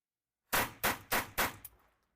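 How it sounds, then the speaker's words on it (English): Four sharp .22 Short rifle shots ring out at a steady pace, followed by a smaller fifth crack that trails off into quiet, fairly close and with nothing else around them. "Let's finish the last 5 shots we have left."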